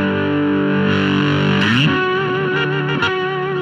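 Electric guitar played through a fuzz pedal, like a heavy overdrive, plays a song intro: a sustained distorted note with a bending, rising slide, then choppy muted strums, loud and close with no speakers or feedback.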